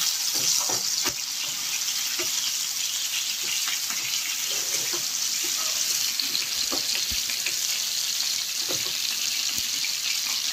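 Prawns frying in a pan for a Bengali borboti chingri dish give a continuous loud hiss of sizzling oil with scattered crackles and pops throughout, close and steady with no voices.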